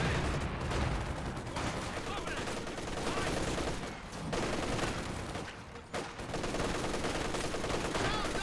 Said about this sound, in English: MG34 is getting some good suppression on in.